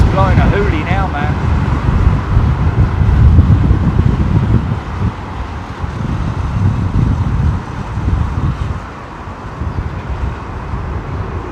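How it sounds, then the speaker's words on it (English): Strong storm wind gusts at Heathrow Airport during Storm Floris, a continuous, loud roaring and buffeting across the microphone, with a rumbling undertone like distant traffic or aircraft. "Wind's blowing a hoolie now, man."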